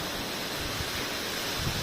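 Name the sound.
heavy rain and strong wind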